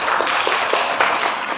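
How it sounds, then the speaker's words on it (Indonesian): A dense wash of applause from an audience at an Indonesian seminar, loud and even for its whole length with no break. "Kita berikan tepuk tangan yang meriah untuk Mas Gofur"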